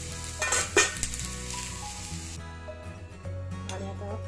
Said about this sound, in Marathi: आणि इकडे उसळ ही बॉईल होतीये